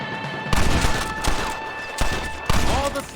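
Gunfire in Red Dead Redemption, with sharp, loud shots cracking at irregular intervals over a tense game soundscape, each followed by a short echoing tail.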